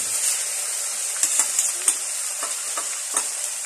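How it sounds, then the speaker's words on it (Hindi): Tomatoes go into hot oil for an aloo baingan sabzi, setting off a steady, close sizzle broken by a few brief stirring clinks, with no talk. "इस टाइम हमने टमाटर डालना है ताकि ये गरम ऑयल ठंडा हो जाए"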